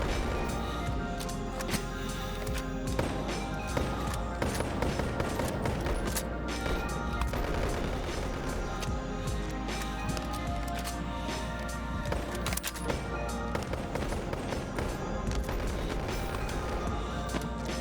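A gun fires repeatedly in the VR game Boneworks, giving dense rapid cracks and bursts layered over constant game noise at a steady, loud level throughout.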